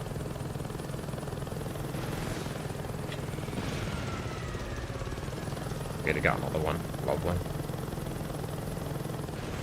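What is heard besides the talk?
helicopter in Saints Row 2 video game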